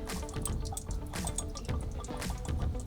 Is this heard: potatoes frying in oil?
no